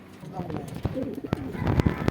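Pigeons coo softly in the background of a fancy pigeon breeding loft amid rustling and occasional wing flaps and thumps.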